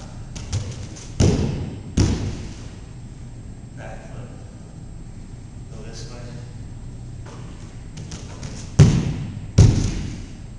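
Gymnast landing a round off back flip: a few heavy, close thuds of feet hitting the ground, paired near the start and again near the end, with faint rustling and breathing between them.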